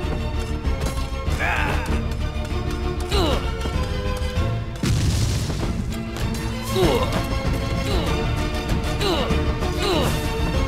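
Archidon stick archers fire volley after volley in the mobile game Stick War Legacy, a dense, loud clatter of battle hits and crashes over game music, with repeated shouted commands throughout.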